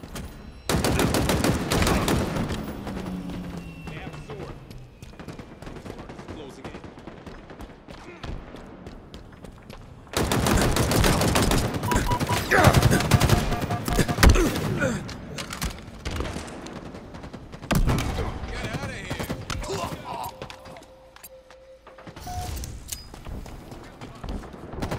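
Halo Infinite ranked Slayer multiplayer gunfire, dense rapid bursts and automatic fire in loud stretches separated by quieter gaps, with in-game voice callouts over the shooting.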